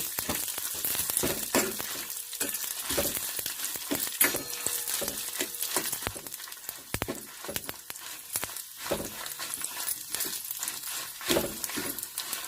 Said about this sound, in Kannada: ಕಡಲೆಬೇಳೆ ಉದ್ದಿನಬೇಳೆ ಕೆಂಪಗಾಗೋ ಅಷ್ಟೊತ್ತಿಗೆ ಒಣಮೆಣಸಿನ್ಕಾಯಿ ಕೂಡ ಹುರ್ಕೊಳ್ಳುತ್ತೆ